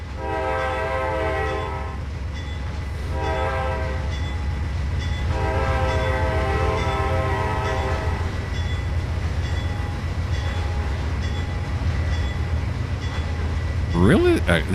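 A Trainz 2022 locomotive sounds its horn approaching a crossing: long, loud, steady multi-tone blasts in separate bursts over a continuous rumbling engine and rolling wheels.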